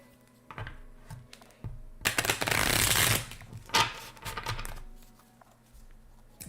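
Playing cards shuffled by hand during a tabletop game session, a few quick papery riffles and bursts of flicking, with one long dense riffle in the middle, close and fairly quiet.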